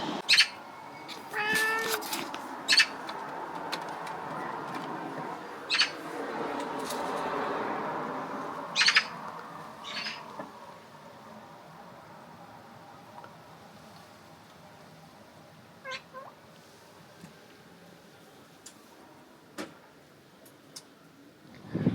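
Cats meow intermittently inside a camper van in Dublin, Ireland, several short calls scattered over a long stretch, with quiet ambient noise and occasional faint ticking between them.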